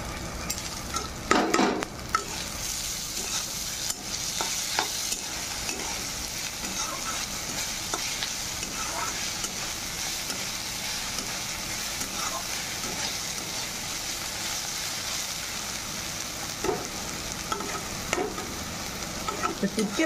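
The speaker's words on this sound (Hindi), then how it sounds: "ये पियाज भाजीदेवे पियाज टे गोल्डन ब्राउन हो जाएंगे" Onions sizzle in hot oil in a pan while a spoon stirs them, giving a steady, close crackling hiss with occasional scraping clatters throughout.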